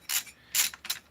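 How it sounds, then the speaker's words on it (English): A ratchet wrench loosens bolts in a basement, giving three short bursts of rapid metallic clicking separated by brief pauses, fairly close and clear with no talking. "So let's get these bolts off."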